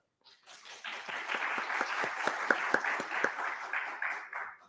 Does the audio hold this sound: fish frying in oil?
no